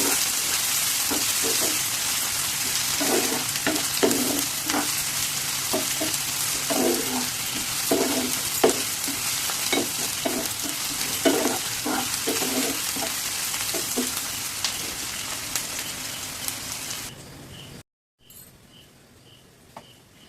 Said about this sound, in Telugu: సన్నగా కట్ చేసి పచ్చిమిర్చి బాగా వేయించుకోండి